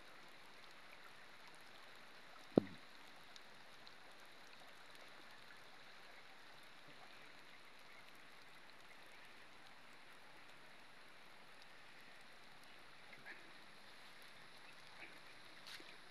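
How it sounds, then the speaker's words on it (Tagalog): Continuous hiss of heavy rain and rushing floodwater, steady and even, with a single sharp knock early on. "umuulan pa, lakas ng ulan"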